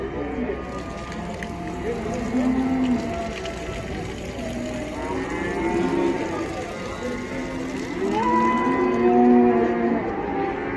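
Cattle moo repeatedly at a busy livestock market in Taraz, with several long, drawn-out calls near and farther off over constant crowd chatter and people talking.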